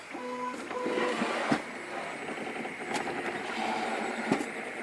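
A homemade RepRap 3D printer works on a part, its stepper motors whining in short stepped tones amid a steady mechanical whir with occasional clicks, close and moderately loud.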